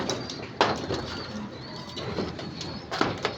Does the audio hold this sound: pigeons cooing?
yes